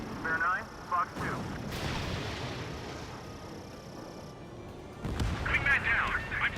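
A fighter jet fires a missile in Ace Combat 7: Skies Unknown, a sustained rushing roar over engine noise, with radio chatter in the game heard around it.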